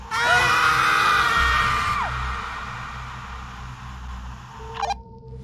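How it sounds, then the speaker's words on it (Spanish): A loud, sustained high-pitched scream heard over a radio, lasting about two seconds, then cutting off as the radio goes dead, followed by low rumbling and a brief crackle. "Se escuchó un breve grito antes de que se apagara la radio."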